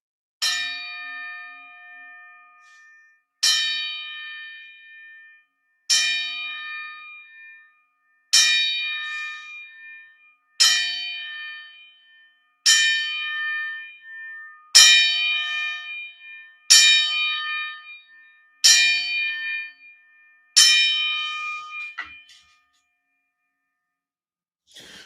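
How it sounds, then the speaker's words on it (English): A boxing-tribute ten count struck on a gong or ring bell: ten clear, resonant metallic strikes spaced about two seconds apart, each ringing out and decaying before the next, loud and alone with no talking. "Let me give a 10 count on Kamal Oz's gong to Daryl Thomas, man."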